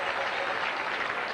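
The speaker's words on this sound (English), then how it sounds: "acknowledging the applause he received from these fans here" A crowd of baseball fans at an Oakland A's game against the Red Sox claps steadily from a distance, a broad even wash of applause.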